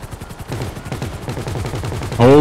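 Rapid automatic gunfire from a helicopter in the GTA 5 video game, a dense run of repeated shots ending in a loud harmonic burst.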